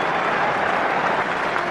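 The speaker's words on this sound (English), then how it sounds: "Applause for Danny Grewcock, who's been replaced by Ben Kay" A stadium crowd at a 2002 England versus New Zealand rugby test match applauds a substitution, a broad, continuous wash of clapping and crowd noise.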